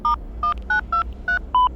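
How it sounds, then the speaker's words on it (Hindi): A phone number is dialed: six short touch-tone beeps in an even rhythm, clear and close with no other sound. "डॉक्टर ने अपना फोन निकाला और इंस्पेक्टर को कॉल करने लगा।"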